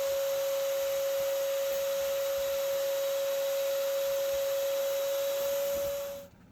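A vacuum cleaner sucking up European hornets in an attic runs with a steady, high-pitched whine and a constant rushing of air, then cuts off abruptly near the end.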